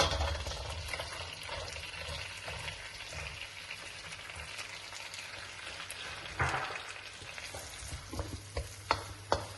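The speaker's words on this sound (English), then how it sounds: "Once the jeera seeds are cracked, what I'm going to do is put the diced onion." Diced onion frying in butter with cracked cumin (jeera) seeds for Punjabi-style paneer bhurji, a steady close sizzle with stirring scrapes and a few sharp utensil clinks near the end, no talking.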